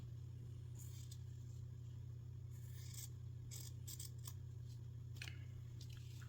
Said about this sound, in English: So what I can do is cut this part here.